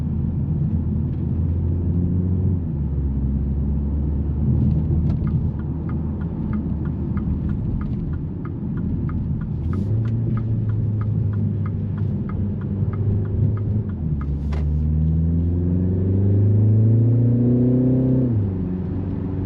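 A 2025 MINI Countryman S All4 cruising on a road, its engine a steady close hum and rumble with rising and falling revs under continuous road and tyre noise, with no talking.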